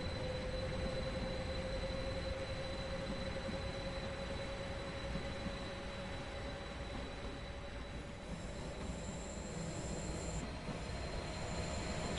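A train running along the Luzern–Sursee route in Train Sim World 2 gives a steady, continuous rumble of rolling wheels with a faint high-pitched squeal, unbroken and fairly loud with no voices.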